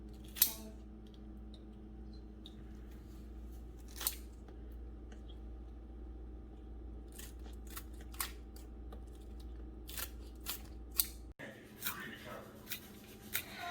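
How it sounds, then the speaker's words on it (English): Scissors snipping through a crisp onion, with scattered sharp cuts at irregular intervals against a low background hum. "Now that I finished cutting up the onion with the scissors"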